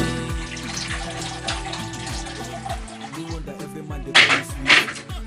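Steady stream of water pouring from a kettle and splashing into a cooking pot for jollof rice, close and fairly loud, with a couple of stronger gushes near the end.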